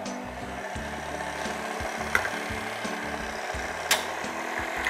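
Dough mixture with a whole egg beaten by hand in a bowl for cheese rolls, giving a steady rubbing, scraping churn with a couple of sharper knocks.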